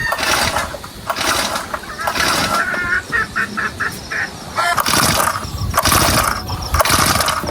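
A grass cutter engine fails to start, its pull-starter rattling and whirring in repeated rough yanks that never catch, heard close and loud.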